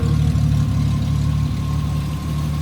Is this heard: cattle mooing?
no